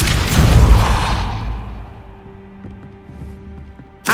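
A Depulso force spell bursts out in Hogwarts Legacy with a loud whooshing blast that decays into a fading tonal ring, followed by a short sharp hit at the end.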